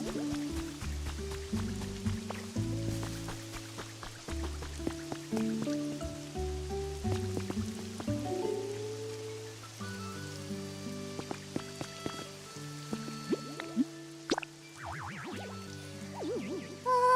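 Steady, soft rain patters continuously in the Pokopia video game, spread evenly under gentle melodic background music with no talking.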